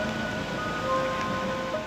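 Heavy, steady rain in Marathwada after five straight days of downpour falls as a dense, even hiss throughout, close and unbroken, with no voices over it.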